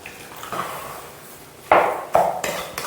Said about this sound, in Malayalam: ഇതിങ്ങനെ അങ്ങോട്ട് മിക്സ് ചെയ്ത് കൊടുക്കുക കേട്ടോ